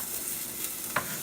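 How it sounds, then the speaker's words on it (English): Close, steady hissing sizzle of onion frying in a hot pan, with a faint scrape or stir partway through. "And put the onion in. Woo! Listen to that sizzle."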